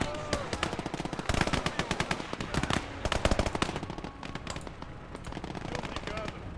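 Battle video game machine gun fire, rapid rattling bursts of shots mixed with scattered gunfire and blasts, loud near bursts mid-clip easing later, with voices talking underneath.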